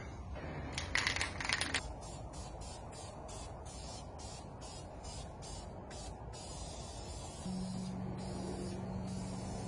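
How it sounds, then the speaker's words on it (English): An aerosol can hisses in short repeated bursts, spray-painting a Cummins diesel engine block, with a few quick rattling sprays early on and a low steady hum in the background. "I'm gonna dry a little bit and then I'll spray color."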